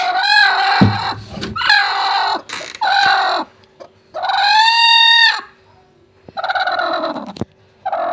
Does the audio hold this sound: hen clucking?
yes